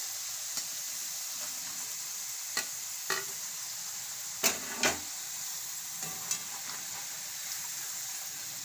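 Potato chips fry in hot oil with a steady, bright sizzle, broken by a few soft clicks and scrapes of stirring.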